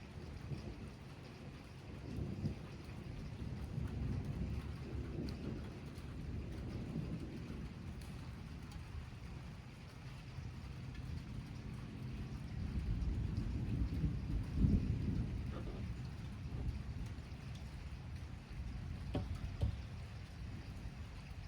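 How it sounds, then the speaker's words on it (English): Steady rainfall at a lake during a thunderstorm, with low rumbling and gusts of wind buffeting the microphone, fairly quiet and continuous throughout. "Yeah, here comes the rain."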